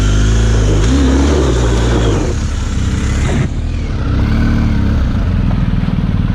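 A dual sport motorcycle engine, either a 250 or a GS, revs loud and close as the clutch is slipped, holding a throaty mid-pitched note that shifts as the revs rise and fall.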